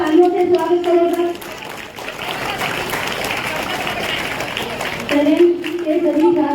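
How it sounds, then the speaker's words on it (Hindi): An audience at a school stage event claps together for class 7th B students coming onto the stage. The steady applause fills the middle few seconds, with an amplified voice talking before and after it. "7th B की छात्र छात्राएं और उनका सब तालियों से स्वागत करेगा।"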